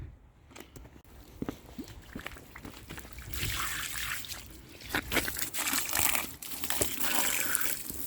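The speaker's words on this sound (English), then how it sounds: "Let's rinse it off and see what it looks like." Water rinses over a brake caliper on a 2004 Honda CR-V, starting as scattered drips and splashes, then becoming a louder steady spray with hissing splatter.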